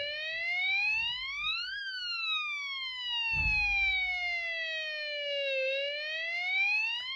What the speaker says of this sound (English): when I hold down the press switch, you hear the siren.